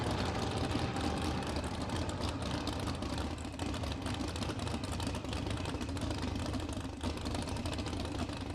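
A drag car engine running rough at a test-and-tune session idles roughly and steadily, a dense rumbling drone with uneven knocking throughout and no voices.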